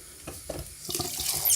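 Water poured into a pot of vegan chilli con carne with chopped tomatoes, a brief splashing trickle that builds to a brighter, louder gush near the end, with no voices.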